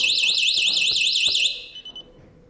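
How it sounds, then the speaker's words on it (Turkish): A loud electronic Crow security alarm wails in rapid rising and falling sweeps for about a second and a half, then cuts off, followed by a few faint beeps. "2 saniye bekleyip alarm çalacak"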